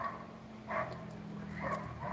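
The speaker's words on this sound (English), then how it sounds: "do you guys hear the doggy barking?" A dog barks in the distance, a few faint muffled barks in two short bursts over a steady low indoor hum.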